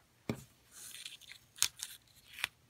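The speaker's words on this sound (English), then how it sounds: "take the painter's tape and tear you off a nice section" Painter's tape torn off its roll for quillwork, three brief, sharp ripping sounds spaced apart, close and clear against a quiet background.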